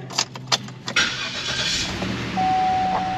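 A Cadillac Northstar V8 with a misfire and flashing check engine light is shut down and restarted: a few clicks and key jingles, then the starter catches and the engine settles into a steady, close idle.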